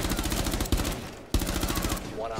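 Rapid automatic gunfire in Rainbow Six Siege rattles in dense bursts, with a few heavier single booms cutting through, close and punchy, and a voice briefly talking near the end.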